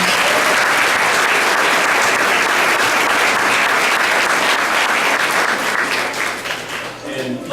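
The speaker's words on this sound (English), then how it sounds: "Let's give the fifth grade teachers a big round of applause." Loud, dense applause from a school audience at a band performance event for the fifth grade teachers, a thick sustained roar of many hands that stays strong throughout and tapers briefly near the end.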